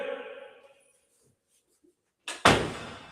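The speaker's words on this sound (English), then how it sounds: "I'm going to shut the door." A door is shut nearby, giving a sharp thud after a stretch of near-quiet, with a dying voice heard at the start.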